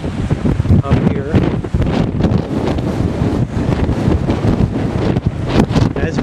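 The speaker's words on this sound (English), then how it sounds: "As we knew it would be windy as hell up here today." Strong wind on a stormy Pacific coast buffets the microphone, producing loud, continuous gusty roaring and rumbling across the whole clip.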